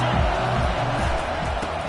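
Stadium crowd cheering in a Madden football video game, a loud, dense roar of many voices sustained without a break.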